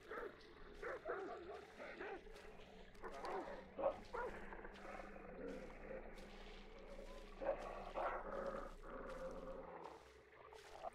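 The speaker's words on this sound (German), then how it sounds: "Wo sind denn die Hunde?" Hunting dogs in the Hunt: Showdown video game bark and yip repeatedly, moderately close, with whimpering tones mixed among the barks under quiet in-game ambience.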